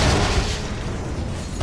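An explosion in a Marvel superhero video game: a loud, broad blast that rumbles from the start and slowly fades over under two seconds, with no talking.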